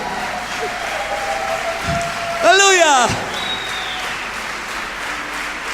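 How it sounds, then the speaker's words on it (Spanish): A congregation applauds at a 2011 apostolic church congress, a continuous wash of clapping beneath one loud, ringing shout from a man. "Un aplauso fuerte al que vive."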